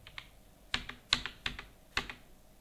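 A computer keyboard is typed on in short irregular bursts of crisp clicks, about six or seven close keystrokes with small gaps between them, loud and alone with no talking.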